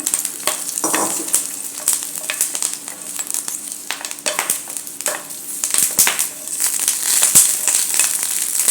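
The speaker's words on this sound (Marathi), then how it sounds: "याच्यावर थोडंसं तेल घालायचं आणि याला तेलात परतायचं" Green chillies sizzling in a little oil in a pan, a dense crackling fry with scraping stirs and occasional sharp pops throughout, close and steady, no speech.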